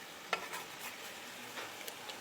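Chicken frying in a pan over high heat gives a faint, steady sizzle with a few soft clicks and pops, no voices.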